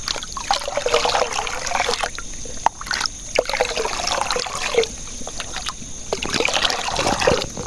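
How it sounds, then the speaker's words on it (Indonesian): Liquid fertilizer mixture being stirred in a container for coffee plants, a continuous close sloshing and trickling with irregular splashes throughout. "kita aduk seperti ini sekitar 2 menit"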